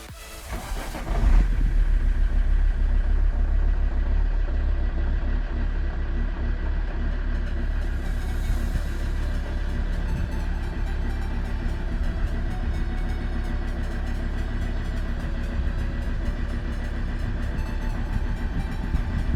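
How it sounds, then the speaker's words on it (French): An Alfa Romeo 159 engine, cold after injector cleaning, cranks briefly, fires, and settles into a steady, loud idle that drones on without a break and is heard close up, with no talking. "Je vais procéder à un démarrage, on va voir s'il y a du mieux."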